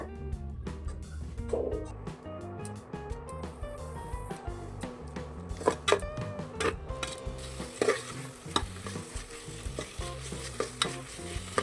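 Mutton keema with salt, chilli powder and coriander powder sizzles and fries in a pan while a spoon stirs and scrapes it in irregular, clattering strokes; the sizzle stays steady and close with no speech.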